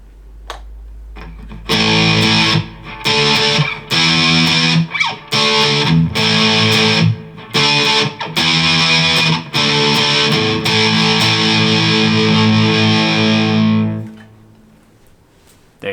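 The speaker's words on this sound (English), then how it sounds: "if I add a little distortion to that" An electric guitar plays distorted rock power chords in a chugging, riff-like pattern with short breaks, loud and sustained, and ends on a final ringing chord that decays away.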